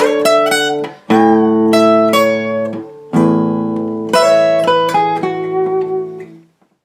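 Acoustic guitar in open D tuning plays the intro lead of a song, with ringing strummed chords and melodic picked notes in several phrases, close and clear with no talking.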